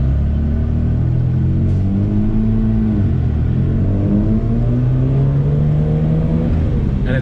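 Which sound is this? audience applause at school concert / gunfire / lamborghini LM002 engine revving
lamborghini LM002 engine revving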